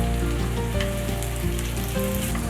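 Onion and green chilies sizzling in a pan as they stir-fry, a dense, continuous close crackle with a low steady hum underneath and no voices.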